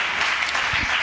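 Congregation applauding during a church service, a steady broadband wash of clapping heard alone at moderate level throughout.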